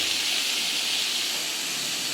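Water poured into spice paste frying in hot oil for a Bengali fish curry, giving a steady, loud hiss that holds evenly throughout with no talking.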